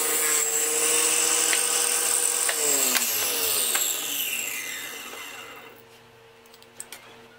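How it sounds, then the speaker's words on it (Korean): Saw cutting a copper plate in half: a harsh, bright grinding rasp that is loud at first, then gradually tapers away, leaving a few faint clicks at the end. "동판을 정확히 반으로 자릅니다. 이때 한 번에 자르지 말고 조금씩 잘라야 위험하지 않습니다."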